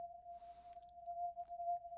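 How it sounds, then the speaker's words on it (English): A synthesizer sounds a single steady sine wave tone, a pure unwavering pitch held alone for about two seconds, with faint background noise briefly rising beneath it. "We can control our sine wave control"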